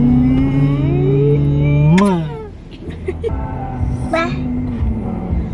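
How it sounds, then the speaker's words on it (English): A truck passes close by with a rising engine drone and a whining tone that climbs then drops as it goes past, fading into quieter road noise and light traffic. "Truck."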